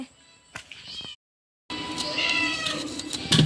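A cat meows a few times close by, with a brief silent gap between calls and some light household noise around them.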